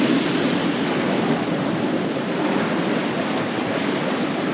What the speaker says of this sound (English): that wind's picking up quite a bit. It's blowing right over the top.